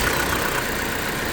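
The engine of an EZG Hp 20 grout pump running at idle after a restart, a loud, close, steady low rumble with a rough, knocking texture and no voices over it.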